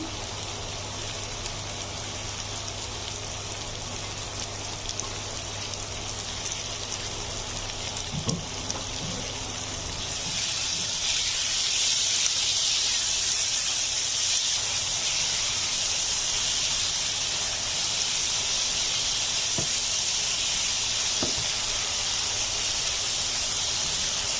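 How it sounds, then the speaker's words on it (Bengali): Spiced lentils fry in a pan with onion, green chili and garlic, a soft, steady sizzle that jumps to a louder, brighter hiss partway through and continues without talk. "আমি ডালগুলো একটু কষিয়ে নেব, কাঁচা মশলার গন্ধটা না যাওয়া পর্যন্ত।"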